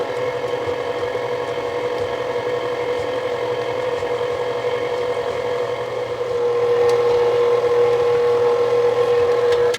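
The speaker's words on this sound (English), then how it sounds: "the paddle attachment that I put on my mixer has a rubber blade on the side to scrape the bowl as it mixes everything together" An electric stand mixer with a paddle attachment and rubber scraper blade mixes pumpkin cookie dough, giving a steady, even motor hum that grows slightly louder partway through, with no voices.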